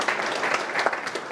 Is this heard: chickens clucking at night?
no